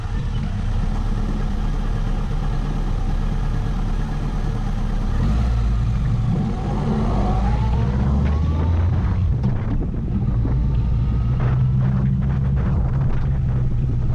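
A Honda CB1100 classic standard motorcycle rides around Lake Minnetonka in the evening, its low engine drone steady under loud, continuous wind rush across the microphone.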